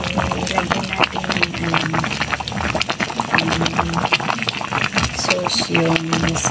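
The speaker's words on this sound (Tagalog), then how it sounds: "Kumukulo na." Thick pork rib stew sauce bubbling and popping steadily in a pot, close up, with a voice talking over it intermittently.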